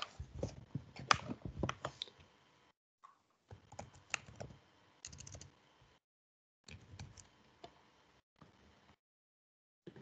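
Computer keyboard keys typed in short bursts of close, crisp clicks with brief pauses between runs, no voices.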